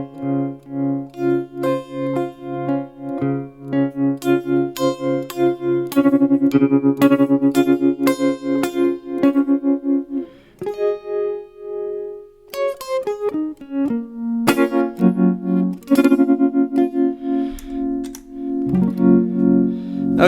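Electric guitar played through a dynamic tremolo effect with no reverb, rising and falling in volume as picked notes and chords ring out clearly for about twenty seconds, alone with no talk.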